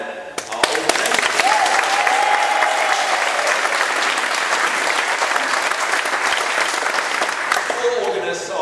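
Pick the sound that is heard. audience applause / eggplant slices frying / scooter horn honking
audience applause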